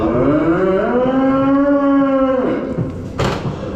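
Cattle trapped in a crashed cattle truck bellow in one long, loud, drawn-out moo close by, followed by a brief scrape or clatter as it ends.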